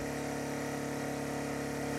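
A Champion 2500W dual fuel generator runs on propane under an electrical load, its engine a steady, dense mechanical drone with an even hum, close and continuous without pauses.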